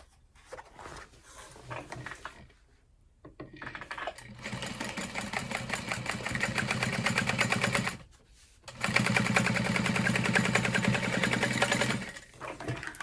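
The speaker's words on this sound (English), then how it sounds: "And then I'm going to top stitch through the top here." Sewing machine top stitching through a handbag flap, running in two long steady bursts of rapid needle clatter separated by brief pauses, close and fairly loud with no talk.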